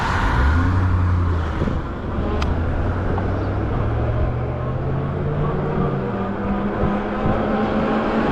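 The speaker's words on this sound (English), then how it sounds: "One more car." A single car drives past on a street, its engine and tire noise loud and close at first, then falling into a lower steady rumble as it moves away. No one speaks.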